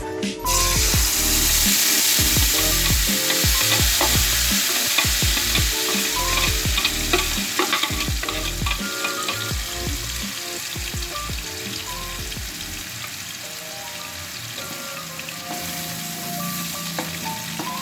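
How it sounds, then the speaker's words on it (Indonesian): Steady hissing sizzle of spice paste frying in hot cooking oil, with frequent scraping and clinking of a spatula stirring the pan throughout. "Kita tumis sampai harum ya pemirsa."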